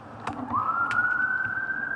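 A siren wails in a long steady tone, rising at first then holding high, somewhat distant over faint background noise, heard from the woods.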